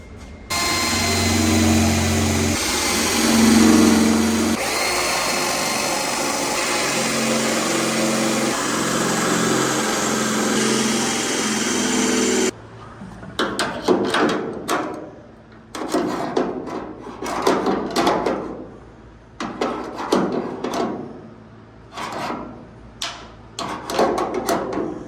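A power drill runs on fasteners on a 1971 Chevy K5 Blazer: a steady high whine for about twelve seconds, then a string of short, irregular bursts as the bit bites and scrapes.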